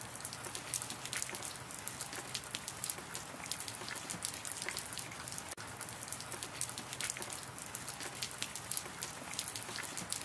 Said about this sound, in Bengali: বৃষ্টি দেখে তো আর কোথাও বেরোতে পারবো না